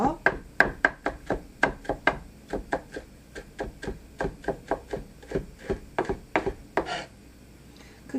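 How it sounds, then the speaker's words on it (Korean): A knife chops garlic and onion on a cutting board in an even, brisk rhythm of about two dozen close, crisp knocks, pausing briefly near the end. "크기가 일정하도록 썰어줍니다"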